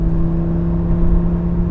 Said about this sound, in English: it's a V10 with a beautiful exhaust system, so you're of course still gonna hear it